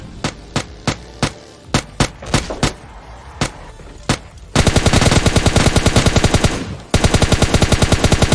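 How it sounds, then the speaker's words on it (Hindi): Video game gunfire: single shots in a steady rhythm give way to a loud, sustained automatic burst that pauses briefly and then resumes, dense and close. "सामने गोली की आवाजें तुमको आ गई"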